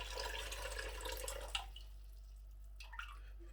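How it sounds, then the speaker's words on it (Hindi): Jaggery syrup is poured into rice as it cooks, a soft close liquid stream with a few drips that fades into quiet, over a steady low hum. "सबसे पहले गुड़ का पानी जो है, यानी कि जो शीरा हमने तैयार किया है चावलों के लिए, वो मैं इसमें ऐड करूँगा।"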